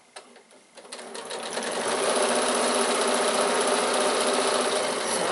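A sewing machine stitching a piped bag starts with a few slow stitches, then speeds up into a steady, loud mechanical whirr that holds to the end.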